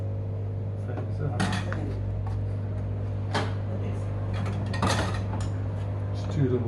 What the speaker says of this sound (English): I'll try and wedge it with the little pliers from the back